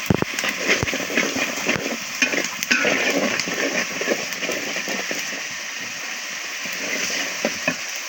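Hot oil sizzles in a pan as two bay leaves go in while cooking silver carp, a steady close frying hiss with scattered crackles and pops, no talking.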